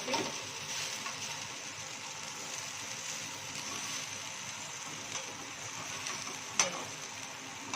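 Tikki patties fry and brown in a hot pan, a steady close sizzle running throughout with an occasional clink, no talking.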